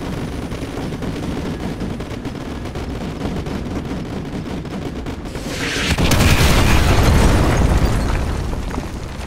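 Loud rumbling explosions and crackling gunfire from Call of Duty Advanced Warfare, a dense barrage that swells into a big blast partway through and rolls on, no talking.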